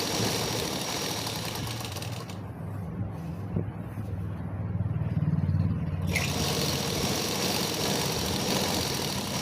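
Electric sewing machine running a second line of stitching along a rubber-elastic seam on a painted-flower garment, a steady close mechanical whir that slows briefly mid-way and then resumes, with no speech.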